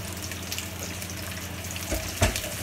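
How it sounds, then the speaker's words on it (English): Chicken and sausage pieces sautéing for jambalaya: a soft continuous sizzle of frying meat in a pan, with a couple of brief stirring or clattering sounds near the end. "we saute them until we get some color"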